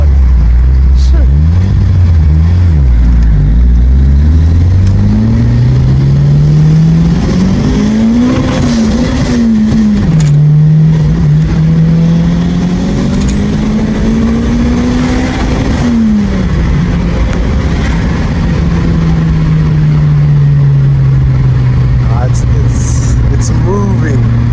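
A turbocharged Ford Escort XR3 race car engine roars close up from inside the cabin, accelerating repeatedly with rising and falling pitch through gear changes, loud and continuous.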